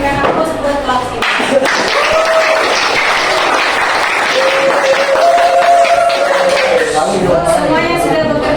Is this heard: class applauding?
yes